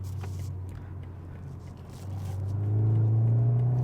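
A BMW 4 Series (G20 LCI) accelerates while driving, its engine drone rising in pitch and swelling louder over the last couple of seconds beneath a steady cabin rumble.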